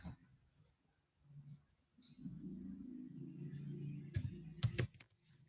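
Soft clicking of computer keyboard keys while typing, quiet and close, in short irregular bursts over a low room rumble, with a couple of sharper clicks near the end.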